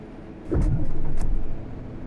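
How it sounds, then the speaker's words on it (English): A diesel coach engine in the Fernbus Coach Simulator video game, a Neoplan Skyliner, cranks and starts, rising to a low steady idle rumble after a brief starter whine, fairly quiet overall. "let's go ahead and get the coach started up here"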